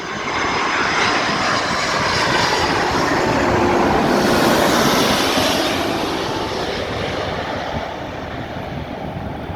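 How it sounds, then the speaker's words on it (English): Airbus A330-300 jet engines in the Infinite Flight flight simulator game, a loud continuous roar swelling slightly mid-way then easing, dense broadband rumble heard alone without speech. "Infinite Flight A330 rework should sound like this."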